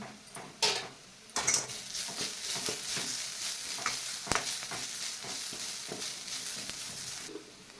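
Eggplant and potato curry sautéed in a pan with curry leaves, giving a soft, steady sizzle marked by intermittent metal spatula clinks and scraping stirs, fairly quiet and without speech.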